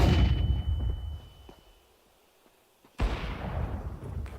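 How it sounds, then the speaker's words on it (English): A flashbang grenade detonates in a video game: a loud blast opens, fades into near silence, then a second sharp burst hits around the three-second mark and rumbles on. "Flashbang out."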